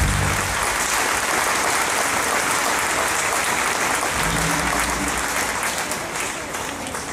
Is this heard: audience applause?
yes